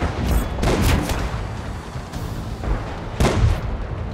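A tank cannon fires on a Panzer 38T in a tank video game, with several loud, close booming shots spaced over a few seconds and rumbling battle noise in between.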